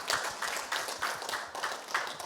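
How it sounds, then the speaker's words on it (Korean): Audience applause welcoming a teacher joining a school event presentation over Zoom: a steady wash of clapping from a room of people, moderately loud and continuous, with no talking over it. "저희 격려를 드리는 마음에서 환영의 박수를 크게 해주시면"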